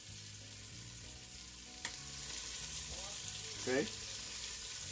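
Oxtails brown in a hot pan with a steady, broad sizzle that swells slightly partway through, while someone speaks briefly over the frying.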